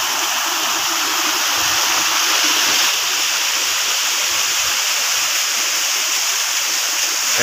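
Ci Koning waterfall in Bogor roars as a steady, loud rush of falling water, a constant broadband wash with no pauses.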